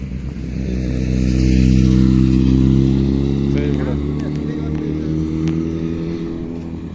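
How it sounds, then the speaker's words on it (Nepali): A motorcycle engine rumbles nearby on a city street, swelling louder and then easing as it passes, with traffic hum underneath and a voice talking over it. "बाइकको साउन्डहरू चाहिँ बवाल हुँदो रहेछ"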